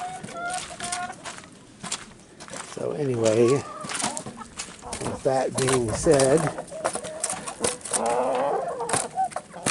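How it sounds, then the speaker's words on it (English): Chickens clucking outdoors on a cold day while pecking at foam packaging, several bursts of loud nearby clucks over someone talking. "Oh yeah, chickens eating foam."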